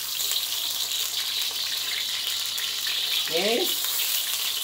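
Garlic and onion sizzle steadily in a hot pan for a spicy kueyteow noodle dish, a continuous close frying hiss throughout, with one short spoken word partway through.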